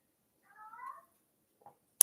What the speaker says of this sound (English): Oh no, Lola's meowing.